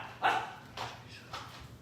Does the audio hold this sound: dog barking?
yes